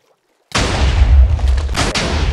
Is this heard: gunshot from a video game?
yes